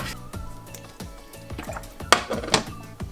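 Metal clatter of a frying pan being taken out and set down, several clinks and thunks in quick succession, close and fairly loud, as oil goes in.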